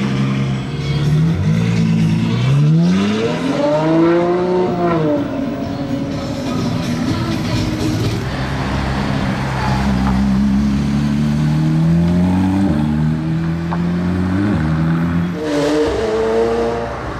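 A Lamborghini-style GTS sports car fitted with a Novitec exhaust revs loudly and close by, its engine note climbing and falling through several sweeping surges before settling into a sustained, throaty drone.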